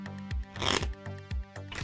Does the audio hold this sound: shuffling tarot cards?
yes